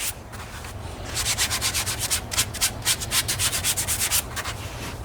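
Abrasive pad scrubbing Alcantara upholstery inside a BMW M5, a rapid series of loud, close back-and-forth rubbing strokes with a gritty, rasping texture following a quieter moment.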